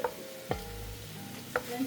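Food sizzles softly in a pan, with a few sharp clinks of a utensil stirring against the metal.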